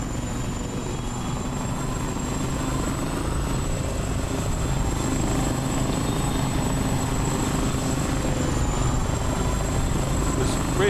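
An Airbus H145 helicopter in Microsoft Flight Simulator gives a steady, continuous rotor and turbine drone with a faint high whine, the level unchanging from start to end, while a voice talks now and then.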